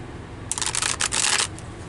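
A deck of tarot cards is riffled and shuffled in a quick, crisp burst of flapping and ruffling that lasts about a second, close and clear against a faint background hiss.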